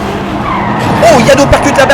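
Diecast toy race cars, a Porsche, Corvette, Ford and Renault, run along a miniature track with squealing, skidding tyre-like sounds and brief whines, while a voice commentates over them.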